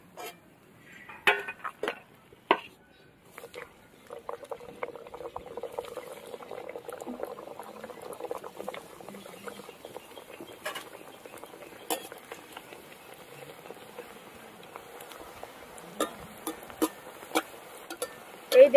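Small potato puris bob in hot oil, giving a faint, steady bubbling crackle that runs throughout, broken by a few sharp clinks of a utensil against the pan.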